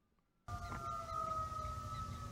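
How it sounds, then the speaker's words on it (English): A steady, eerie siren-like wail with sustained wavering tones starts suddenly after a brief silence and holds loud and continuous to the end. "Some sirens right there"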